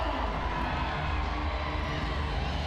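A large crowd roars and cheers steadily at Gosford Stadium during a Freestyle Kings freestyle motocross event, a dense, continuous wash of voices with no break.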